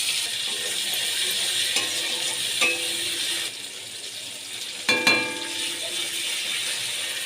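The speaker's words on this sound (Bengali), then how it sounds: "ভালো করে কষিয়ে নিচ্ছি" Spice paste of ground garlic, onion, chilli and cumin frying with tomato and nigella seeds in hot oil, a continuous faint sizzle broken by a few sharp scraping clicks and one louder clatter of a stirring utensil.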